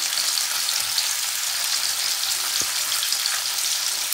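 Fish sizzles steadily in hot oil in a pan, a dense, even crackle with no pauses and no voices.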